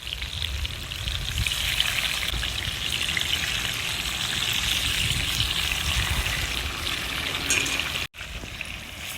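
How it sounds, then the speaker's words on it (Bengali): Oil sizzles and spits steadily as koi fish (climbing perch) fries in a pan over a wood-fired stove, a continuous close crackling hiss that cuts off briefly near the end. "তো কই মাছ ওইদিকে ভাজা হোক"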